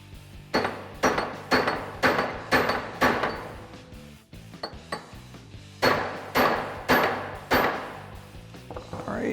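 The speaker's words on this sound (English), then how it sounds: "I'm gonna use a chisel and a hammer to hammer this guy in." Repeated sharp metal hammer blows on a chisel, driving a stud into a 2014-2020 Ford F-150 leveling strut extension with steady rhythmic strikes in two bursts separated by a short pause.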